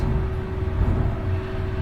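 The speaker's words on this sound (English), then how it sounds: "The truck is outside of the door. I hope it's not too loud." A garbage truck's heavy engine idles outside, a constant low rumble and hum filling the space without any break.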